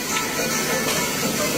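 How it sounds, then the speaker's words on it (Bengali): Fish frying hot at a restaurant, a steady broad sizzling hiss that fills the whole moment, loud and close with a faint voice underneath. "এখানে গরমা গরম মাছ ভাজা হচ্ছে"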